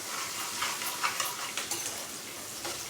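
Onions fry in a pan until brown for a gongura broad bean curry, making a soft, steady sizzle. Light, intermittent stirring taps sound close by.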